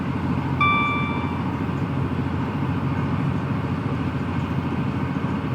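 A passenger train accelerating on the Trent Valley line in Train Simulator Classic, a steady low rumble of engine and wheels on rails, with a brief high warning tone near the start, continuous and unbroken.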